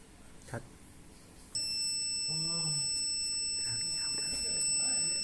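A shrill, steady electronic buzzer on a microcontroller circuit, triggered by a 35-degree temperature reading, switches on and drones continuously at a high pitch while a person talks quietly underneath.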